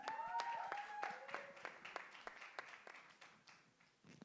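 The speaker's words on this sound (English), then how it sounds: "Ladies and gentlemen, can we have a round of applause once again for our dear friends?" Scattered, sparse clapping from a press conference audience, faint and uneven, with individual hand claps popping out against a quiet room and a brief whistle-like tone near the start.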